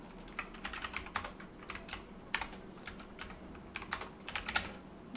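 Steady, rapid typing on a computer keyboard while writing code, with close, crisp clicks in irregular bursts for about five seconds and no talking.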